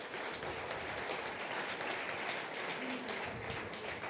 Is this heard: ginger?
no